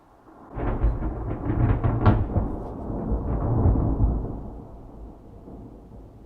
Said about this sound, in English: whoa, that was a big lightning